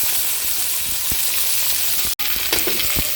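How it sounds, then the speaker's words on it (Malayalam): Chopped shallots and curry leaves sauté in a clay pot, a steady bright sizzle of frying in oil with occasional stirring clinks and scrapes, close and continuous with a brief drop near the end. "നമ്മുടെ ചെറിയ ഉള്ളിയും കറിവേപ്പിലയും ഇതിട്ടിട്ട് നന്നായി ഒന്ന് വഴറ്റിയെടുക്കാം കേട്ടോ"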